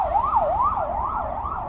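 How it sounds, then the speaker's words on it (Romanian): Ambulance siren wailing in a steady rising-and-falling sweep, fairly close, heard in traffic from a motorcycle with low road and engine rumble underneath. "vine o ambulanță din spate"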